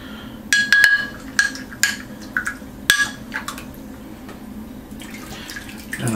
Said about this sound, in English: Have to cross rinse some water because I've got a little bit of vinegar in that to break the bubbles